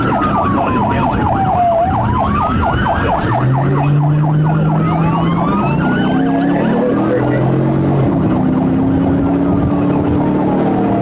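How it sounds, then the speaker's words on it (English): Police car sirens blaring during a chase, several wailing and yelping sirens overlapping continuously, loud and close with engine and road rumble underneath. "sirens blaring."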